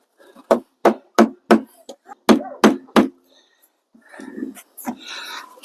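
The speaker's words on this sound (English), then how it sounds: "A little bit of tapping with a finish hammer." A finish hammer taps a wooden window buck into a wall opening, up on a ladder. Sharp, close knocks come in two quick bursts of four and three, with a few scattered softer taps, then brief rustling and a soft voice.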